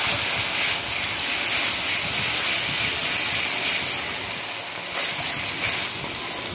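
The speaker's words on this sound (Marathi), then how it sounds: "तयार केलेले आपण जे वाटण आहे ते आता कढईमध्ये टाकून परतून घ्यायचं आहे आपल्याला" Ground masala paste sautéing in a kadhai for kadhai mutton gives a continuous close hiss and sizzle, fairly steady with slight swells and a few sharper spits toward the end.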